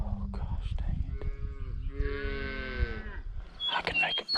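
Cattle moo loudly and close by in a Nebraska field, one long drawn-out moo followed by further lowing, heard alone without talk.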